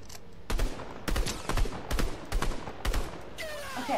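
Gun in the game Evolve fired in evenly spaced single heavy shots, about six of them, punchy and close, ending in a ringing metallic tail.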